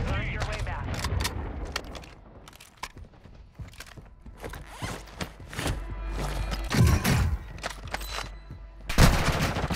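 Gunfire in a first-person shooter video game rings out in sharp, scattered shots and short rapid bursts, some close and loud, others fainter and distant, with people talking in between.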